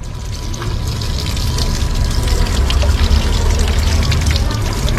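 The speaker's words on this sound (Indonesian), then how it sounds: "setelah dirasa cukup, maka bisa dibilas kembali" Water trickles and pours steadily over an overhead conventional fishing reel during a gentle rinse, a continuous close splashing wash throughout with no talk.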